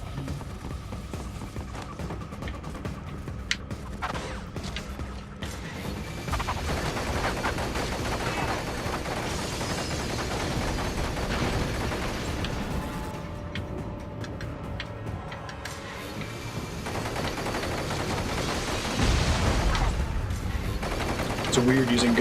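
Gunfire in Metal Gear Rising: Revengeance, dense crackling volleys and rapid ticking shots running steadily beneath game music and noise, with a voice speaking at moments.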